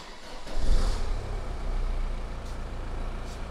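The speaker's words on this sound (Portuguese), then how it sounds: "Vamos colocar então agora o motor em funcionamento para começarmos a controlar estes valores." A turbocharged car engine is started while the vehicle stands parked, a low rumbling catch and surge followed by a steady, close idle rumble.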